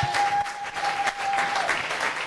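A church congregation claps and cheers together in a dense, steady burst of applause that fills the room.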